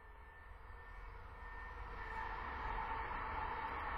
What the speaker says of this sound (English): Excuse the trains again.